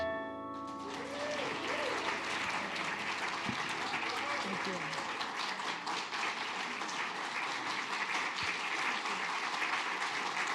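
A congregation at Unity of Walnut Creek bursts into applause, steady dense clapping that swells in after a sung note and continues for around ten seconds.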